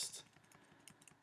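Computer keyboard keys are tapped in a quick irregular series of light, close clicks while editing an image, alone against a quiet background.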